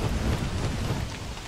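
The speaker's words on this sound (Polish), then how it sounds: "No i proszę, deszcz i burza." Rain and a rumbling thunderstorm in the survival video game Don't Starve, a dense steady hiss of rainfall over a low rolling rumble, fairly quiet and with no voices.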